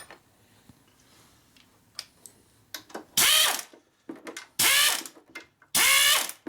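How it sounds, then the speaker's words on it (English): A hand ratchet with a 7/16 socket works a bolt on the oil pump of a 1972 Harley-Davidson Sportster Ironhead engine, giving three loud, close bursts of rapid clicking separated by short pauses, after quieter scattered metal taps. "7/16 socket,"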